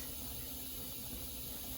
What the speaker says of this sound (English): I'm going to push the release, and the steam is coming out.